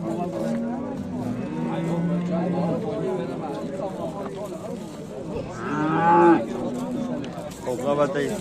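A cow with a two-month-old bull calf moos in long, low calls amid a livestock sale, while people talk nearby throughout.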